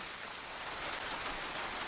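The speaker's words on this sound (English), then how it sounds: "it's absolutely hosing with rain" Heavy rain pouring down on the industrial outskirts of Topolin in DayZ, a dense, steady hiss of downpour with no let-up and no voices.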